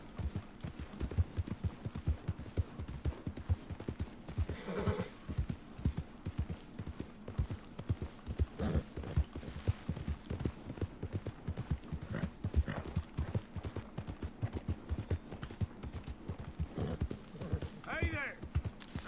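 Horse hooves clip-clop in a steady, quick trotting rhythm through the Red Dead Redemption II game, close and continuous, with voices talking over the hoofbeats at times and a short whinny near the end.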